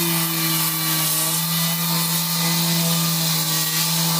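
Compressed air or a blower pushing dust off sanded dimension stone blocks during renovation, a steady loud hiss with a constant mechanical hum underneath, running without a break.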